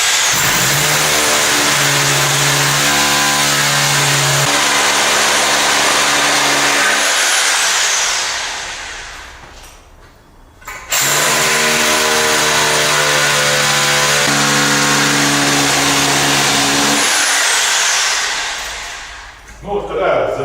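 A rotary hammer drill bores anchor holes into a concrete floor slab indoors, a loud, close motor roar in two long bursts of about eight seconds each, with a brief gap between them.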